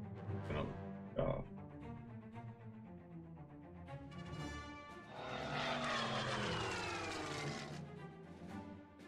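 A WWII bomber in a strategy war game drones past with a propeller engine hum that swells into a loud, rising roar and then holds steady, under occasional brief tonal sounds.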